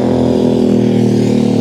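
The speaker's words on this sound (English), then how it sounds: "it's a noisy motorbike" Loud, close motorbike engine droning steadily as it passes along a Sydney street in Glebe, a harsh buzzing tone holding level for the whole moment.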